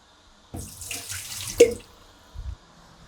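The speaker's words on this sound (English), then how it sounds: "I'm just going to dump out some water instead of having to just prune everything" Water poured out of a flower vase into a sink, a splashing gush that runs for about a second, then a short second splash, close and fairly loud with no talking.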